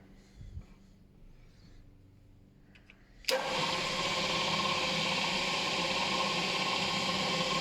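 Experimental vibratory tumbling machine with adjustable unbalanced weights kicks on abruptly after a quiet stretch of faint room noise, then settles into a loud, steady, continuous droning hum that keeps running to the end.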